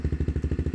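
A cold Kawasaki KX85 dirt bike idling with an FMF Powercore 2 exhaust: a close, loud, low thumping pulse with an even, rapid rhythm and nothing else audible.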